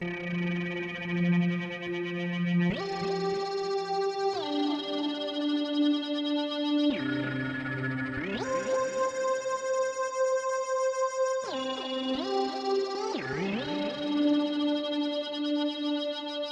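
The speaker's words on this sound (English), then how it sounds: "we wanted a sound that instantly climbs, but has a very slow coming back down, like so" Wavetable synthesizer tones that jump up abruptly and then glide slowly back down, repeating several times with a buzzy, harmonically rich timbre.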